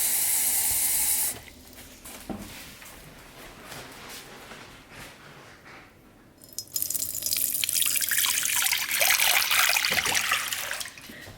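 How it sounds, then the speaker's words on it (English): Tap water runs steadily into a container for no-knead bread dough, a bright hissing pour after a short burst at the start, loud and close with clinks and no talking. "So I'm just gonna get some 13 ounces of water quick."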